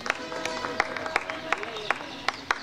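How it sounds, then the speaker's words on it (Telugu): Audience clapping at a student awards ceremony held by a Brahmin service association at Geetha Bhavan: scattered, fairly faint claps with a few sharper individual hits over a steady murmur, rather than a full ovation. "బాగుంటే ఇంకొకసారి చప్పట్లు కొట్టాలి."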